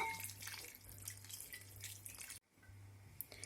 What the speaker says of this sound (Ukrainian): Водичку ми злили.